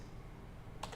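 A short burst of keystrokes on a computer keyboard near the end, a few quick clicks over a faint background hiss, close and fairly quiet.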